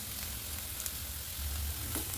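Onion, crushed ginger, garlic and curry leaves frying in a pan for a Kerala mutton curry, giving a steady close sizzle and crackle with occasional stirring scrapes and no voices.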